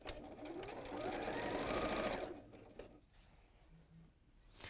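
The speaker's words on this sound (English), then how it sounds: "I've got 2 more strips to sew on." A sewing machine stitches quilt strips in a loud, steady mechanical whir for about two seconds, then stops, leaving a quiet room.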